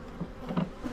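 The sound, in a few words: honey bees buzzing at an opened hive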